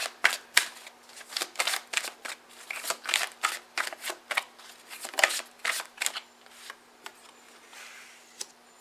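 Tarot cards being shuffled by hand, a quick run of crisp riffling flutters and soft slaps, fairly close and moderately loud, with a faint steady hum beneath and no talking.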